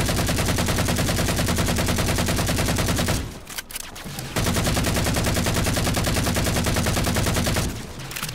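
Rapid automatic weapon fire from the Halo 4 Spartan Ops video game rattles loudly and continuously, broken by a brief pause midway and another near the end, with no speech over it.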